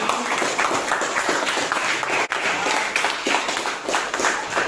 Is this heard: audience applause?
yes